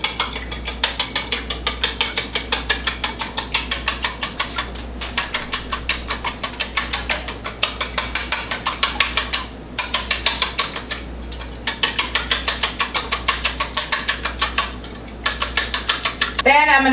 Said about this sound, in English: I'm just gonna like stir it around until it kind of like dissolves.